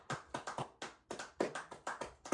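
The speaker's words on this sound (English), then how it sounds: "Let's go ahead and give a round of applause to that" A small round of applause for a song on a talk show: a few hands clapping in a sparse, uneven rhythm, each clap sharp and close, with no talk over it.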